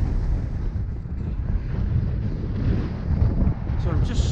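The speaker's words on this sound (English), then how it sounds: "This is getting windy." Heavy wind buffets a microphone while cycling ahead of a storm, a loud continuous low roar and rumble that fluctuates steadily, close and dominating throughout.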